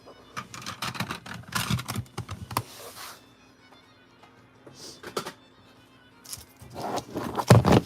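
Pokemon trading cards are shuffled and tapped into a stack and tucked away, giving scattered quick clicks and papery rustles in short bursts with quiet gaps between them, close and fairly soft.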